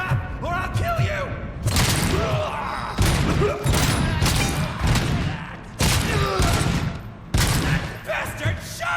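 Gunfire from the RoboCop: Rogue City video game: several loud, dense bursts of shots and booming impacts. Brief pauses separate the bursts, and voices talk throughout.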